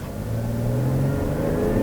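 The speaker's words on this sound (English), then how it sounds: "The engine gets a little loud, but overall the transmission's doing its best." A 2023 Chevy Traverse LT with a 3.6L V6 accelerating hard in a 0 to 60 run, steady loud engine drone with rising harmonics heard from inside the cabin, no talk.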